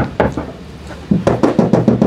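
Knuckle knocks on a car's thin metal floor panel in the rear, a couple of isolated taps followed by a quick run of about six close, hollow raps.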